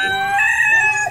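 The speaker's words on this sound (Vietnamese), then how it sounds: "Gà trống này mình gáy to lắm nè" A red toy rooster plays an electronic crowing call, one loud continuous cock-a-doodle-doo with bright tonal harmonics lasting about a second, heard alone with no talking.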